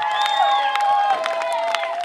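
A church congregation claps for Jesus in a steady rhythm, about two claps per second, under a sustained raised voice calling out. The sound is loud and close.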